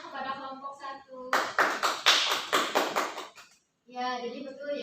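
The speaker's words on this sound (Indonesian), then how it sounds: "Boleh beri tepuk tangannya kepada kelompok 1." A classroom group claps for a student group after their microteaching presentation, a burst of several seconds of close, rhythmic hand claps, with speech before and after.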